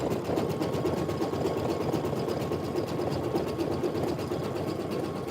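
An embroidery machine stitching patches in a dense satin stitch makes a loud, steady, rapid mechanical chatter that runs continuously with no talking.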